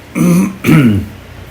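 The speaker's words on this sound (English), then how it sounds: "I want to keep coughing that sort of clearing of the throat." Two raspy throat clearings in quick succession, close and fairly loud, followed by quiet.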